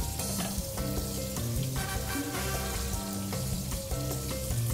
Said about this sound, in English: In this pan, I have butter, I have oil, and I have garlic